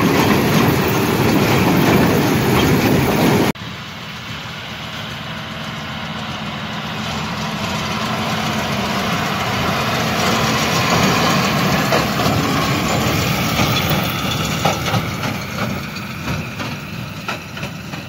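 John Deere 6215R tractor pulling a John Deere 1433 four-string baler through a hay field, with a steady engine drone and rhythmic mechanical clacking of the baler, loud and continuous after a brief initial burst of noise.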